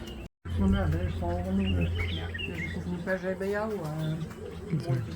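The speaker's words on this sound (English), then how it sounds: "Golden weaver." Golden weavers and other birds call and coo nearby in the Okavango region, while people talk over them.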